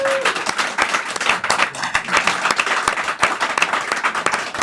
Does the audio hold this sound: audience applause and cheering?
yes